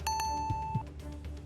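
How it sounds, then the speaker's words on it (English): Two bright bell-like chimes, the first shorter, from the Sonic ring cash-in sound in a Keep Talking and Nobody Explodes game module, sounding clearly and alone, followed by faint soft thumps. "That sounds like our ring cash-in sound."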